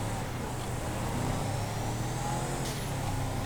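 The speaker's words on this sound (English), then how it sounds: "it got some nice turbo to it because it's turbo diesel" In GTA 5, a Ford Super Duty with a 6.4 Powerstroke turbo diesel rumbles steadily nearby, a low droning engine with a thin turbo whistle above it and a brief hiss toward the end, no speech over it.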